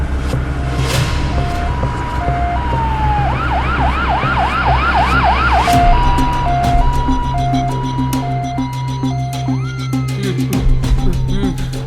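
An ambulance siren wails through a village scene, its two-tone pattern switching to a rising and falling yelp and back, loud and steady over low traffic rumble with no talking.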